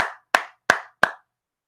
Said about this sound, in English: Everybody give a round of applause for Alan Haines